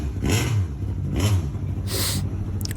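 1990s British Touring Car Championship race cars roar past one after another, their loud engine notes rising and falling in repeated close passes with a steady rumble underneath.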